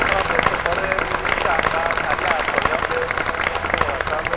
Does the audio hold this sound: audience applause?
yes